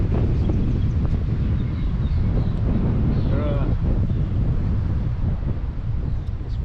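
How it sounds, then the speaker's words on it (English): Strong wind buffets the microphone with a steady, loud low rumble that continues for the whole stretch, with faint splashing and clatter underneath, while wading and casting on a river. "the wind was so strong"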